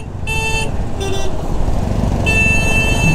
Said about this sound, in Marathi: कोण आहे रे? कोण हॉर्न मारतंय?